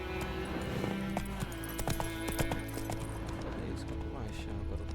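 In The Witcher 3, a horse gallops with rhythmic hoof clip-clops under a continuous game soundtrack and ambience, while a voice speaks over it.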